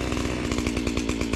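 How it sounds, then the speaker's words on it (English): A chainsaw runs loud and close in freezing woods, its engine pulsing in rapid, steady rhythm as it cuts through a fallen tree. "my husband right now is cutting the tree"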